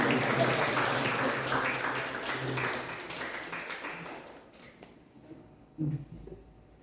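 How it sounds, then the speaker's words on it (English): An audience applauds after a chemistry education presentation, with dense clapping that thins and fades over several seconds and leaves scattered claps and room noise. "give applause again for the Mr."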